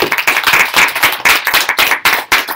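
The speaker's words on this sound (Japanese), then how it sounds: "じゃあ皆さん拍手お願いします。" Loud, close clapping from a small audience at a school gathering in Japan, with quick uneven bursts of hands striking together that come in waves with brief dips between them.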